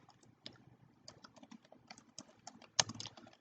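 Typing on a computer keyboard while entering an account name into accounting software: quiet, irregular key clicks close by, ending with one sharper, louder press.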